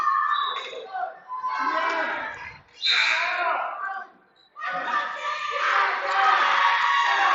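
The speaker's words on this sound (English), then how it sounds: "The crowd is loving it." Crowd noise at a girls' basketball game between the Lady Braves and Lady Panthers, loud and sustained with cheering swells, broken by brief dips and overlapped by a commentator talking throughout.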